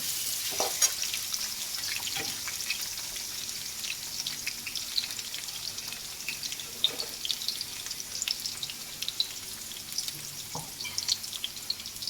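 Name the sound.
potatoes frying in a pan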